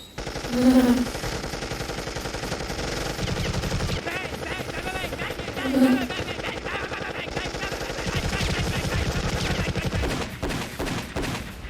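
Rapid machine-gun fire from a Deadpool vs Deathstroke fight scene rattles in long bursts under action-movie sound effects, with a few louder booming hits and a voice talking over it.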